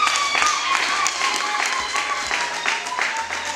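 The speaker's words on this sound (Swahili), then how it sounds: "hebu tupige makofi na vigelegele" Congregation at a pastors' fellowship church service clapping with high ululation over the applause, lively and continuous, with some voices in the background.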